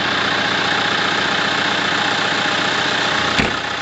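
A tractor engine idles steadily and loudly nearby, a constant rumbling drone with no speech, broken by a brief knock near the end.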